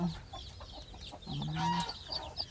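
Chicks in a coop give soft peeps and clucking calls against a faint farmyard background, with short chirps scattered through and a slightly louder cluck near the middle.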